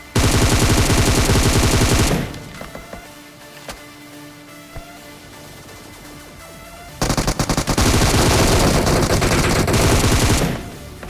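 Rapid automatic gunfire in a mobile battle royale shooter, loud sustained bursts at the start and again later, with a quieter gap of scattered single shots and game sounds between.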